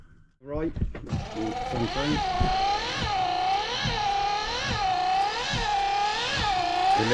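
An engine turns over and catches after an oil top-up, then runs with a loud, whirring whine that rises and falls in regular repeated swells. Voices can be heard under it.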